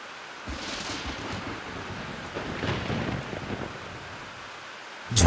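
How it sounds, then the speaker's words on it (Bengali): A thunderstorm rages with a steady wash of rain and wind, a low rolling rumble swelling midway and a sharp loud crack at the very end, close and dramatic. "ঝড় তুফান একভাবে হয়ে চলেছিল"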